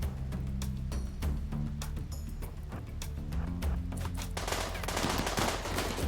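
Rapid automatic turret gunfire in a video game firefight, bursts of shots stacking over a continuous rumble of battle noise and intensifying toward the end, with no speech.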